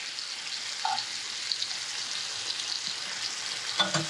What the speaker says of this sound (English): The smaller pieces will flip and remove to the side while the bigger pieces continue to cook.